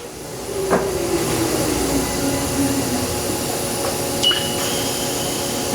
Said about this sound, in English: He's moving the Y-axis, which is 16-inch travel